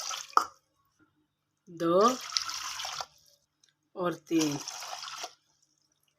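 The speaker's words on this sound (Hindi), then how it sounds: "तो इसमें मैं डालूंगी पानी, 1 कप पानी" Water is poured in bursts from a cup into a cooking pot, splashing loudly in three separate pours, with a woman counting aloud between them.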